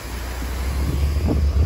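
A waterfall in a mountain village, heard as a steady, broad rushing roar of falling water, loud and continuous, with wind buffeting the microphone.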